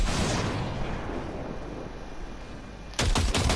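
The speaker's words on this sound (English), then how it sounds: "Fire a short burst into it." In Cyberpunk 2077, a short burst of automatic gunfire rips into a pile of junk, with a dense, sustained rattle of rapid shots, then a sharper, louder volley near the end.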